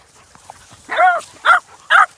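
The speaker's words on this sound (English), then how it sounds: "You're gonna get puppies just playing with each other." Beagle puppies at play let out a few short, high yips and whimpering barks in quick succession, close by, after a brief quiet moment.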